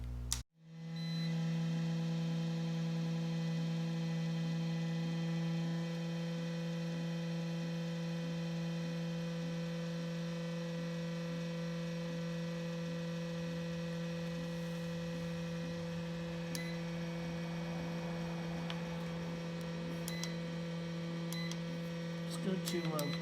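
An Anvil fan motor spins up and runs steadily, loud and close, giving a strong constant tonal hum with a few faint ticks and clicks toward the end.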